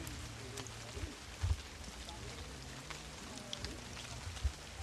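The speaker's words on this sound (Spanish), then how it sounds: "se ha metido el rocío bastante fuerte y nos va a estropear el final de la ruta" Drizzle falling in the open along a Roman road in hazel woodland, a soft continuous patter of drops with occasional louder thumps, steady and moderately faint, with people talking nearby.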